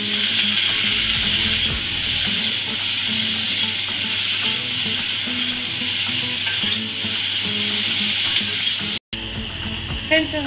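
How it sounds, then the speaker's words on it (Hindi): Paneer and green chillies roasting in a kadai for kadai paneer, with a steady broad sizzle and repeated scraping, rubbing stir strokes throughout, a brief dropout near the end, and faint background murmur. "सब चीज़ें हम इसमें डाल करके और उसको अच्छे से भून लेंगे।"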